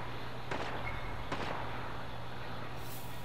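Enemy gunfire in a sniper shoot-out shooter video game: two sharp cracks about a second apart over a steady background hum, fairly distant, with no talk.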